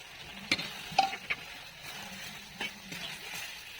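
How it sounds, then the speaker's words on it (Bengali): Potatoes go into a pan of fried spices and tomato ketchup for Kashmiri alur dom, giving a faint, steady sizzle punctuated by a few sharp clicks and taps of a stirring spoon against the pan. "এবার এর মধ্যে আমরা আলু অ্যাড করে দেবো।"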